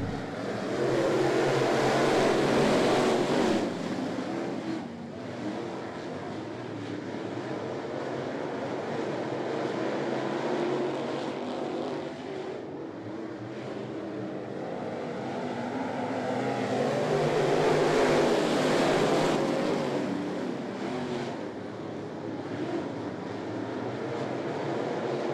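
Pro late model race cars roar around Ponderosa Speedway after the green flag, a dense continuous engine drone that swells and fades as the pack passes, heard from a distance.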